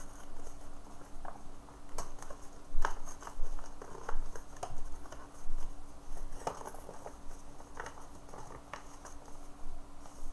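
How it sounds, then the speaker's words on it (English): Paper is torn and folded by hand for a paper sculpture, with soft irregular rips and crinkles coming in short bursts close up over a faint steady hum. "just by making simple folds, simple tears."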